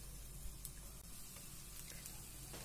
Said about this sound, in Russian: стейк свой в одеяле я перевернула, и он продолжает жариться